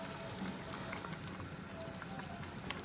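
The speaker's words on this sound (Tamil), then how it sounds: "ஒரு 15 நிமிஷம் தாறுமாறா கொதிச்சாச்சு" Salmon and seer fish head gravy boils hard in a pot, giving a steady, dense bubbling and simmering hiss that stays even and close throughout, with no talking.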